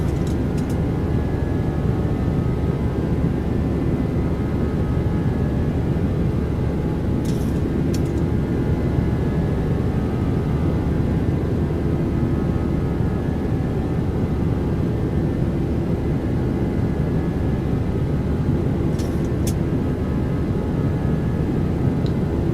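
A Boeing 737-800 climbing out in the X-Plane 12 flight simulator gives a steady, unbroken jet engine roar with faint tonal whine throughout, with no talking over it.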